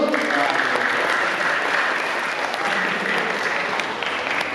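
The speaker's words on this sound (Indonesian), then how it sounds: "Tepuk tangan dulu yuk." An audience at a school alumni talk show claps for former students, giving a continuous, even wash of applause that fills the room throughout and neither builds nor fades.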